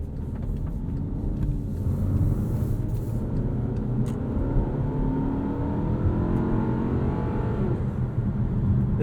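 Inside a 2021 Volkswagen Passat R-Line, its 2-liter turbocharged engine pulls under acceleration with a steady, full road-and-engine rumble that holds evenly throughout, with no talking.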